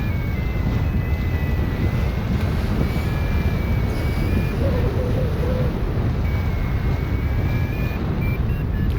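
Steady, loud wind rushing past a hang glider landing at Laragne in the Chabre area, a continuous roar of buffeting across the whole stretch with faint thin tones drifting above it.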